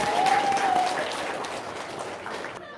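Audience applause at a gathering, a dense wash of clapping that starts loud and slowly fades, with a brief tonal squeal early on and voices faintly underneath.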